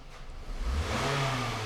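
Close by, a 2007 Scion tC engine revs, its pitch sweeping up from idle into a brief, rising roar.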